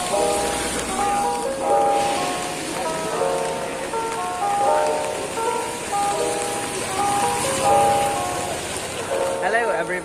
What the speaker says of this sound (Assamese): বৰষুণ দি আছে ইয়াত